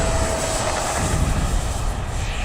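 A Banana Hobby X-FLY T-7A 64mm electric ducted-fan RC jet takes off in a light crosswind, its fan a steady loud whine over broadband airflow rush, held constant throughout without talk.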